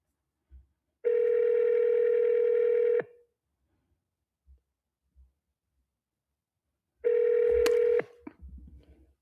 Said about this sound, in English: It's calling myself, y'all, because I have it forwarded to my cell phone